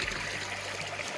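A small forest stream runs under a water wheel, the flow too weak to spin it fast, giving a steady close rushing and trickling of water with no voices.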